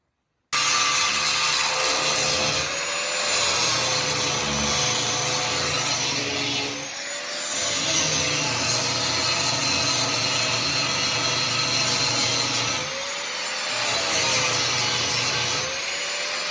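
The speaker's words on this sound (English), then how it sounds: "We've been using the jackhammer." A jackhammer roars loud and close in long continuous bursts with brief dips, knocking out rivets on a 1978 Ford F100.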